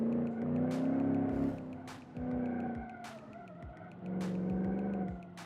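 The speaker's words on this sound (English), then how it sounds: "What a weak engine." Engine of a 1990s police car in a driving video game, a strained motor droning and shifting pitch through short bursts of acceleration, with repeated tire skids and squeals cutting in over the loud, steady game sound.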